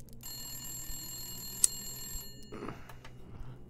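A telephone rings in the snowy survival game The Long Dark, a sustained electronic bell tone for about two seconds, then a shorter second burst after a pause, with faint background game ambience.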